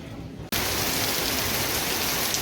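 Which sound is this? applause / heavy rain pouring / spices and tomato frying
heavy rain pouring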